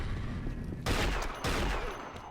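Sniper gunfire in an Unreal Tournament duel, two sharp shots spaced about half a second apart over a constant noisy game background, fairly faint.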